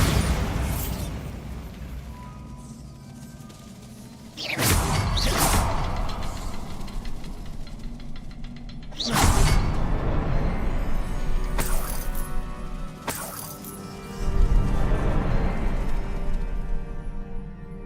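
Bombarda explosion spells in Hogwarts Legacy erupt in several sharp blasts, one near 4.5 seconds, another around 9, then bursts near 13 and 14, each with a bright crack and rumble over a steady ambient game background.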